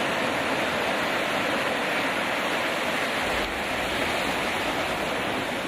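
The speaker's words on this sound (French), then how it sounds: "les vagues viennent frapper avec force sur la plage" Strong waves crash forcefully on the beach at Bargny, a coastline hit by erosion, making a loud, unbroken roar of surf with no voices.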